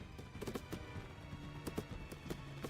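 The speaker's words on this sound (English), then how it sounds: "Oh, there goes the horse." Horse hooves clip-clop at a gallop in Mount & Blade II: Bannerlord, a quick, uneven run of hoof strikes, moderately close, with no talking over it.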